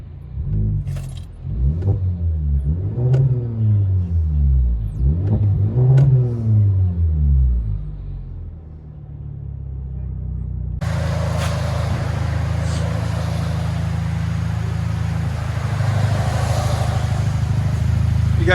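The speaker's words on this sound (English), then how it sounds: "It's a Kia Optima SX T-GDI." A 2011 Kia Optima SX turbo with a MagnaFlow exhaust and resonator delete revs three times from inside the cabin, each a rising and falling blip, then settles into a loud, steady droning cruise with road noise.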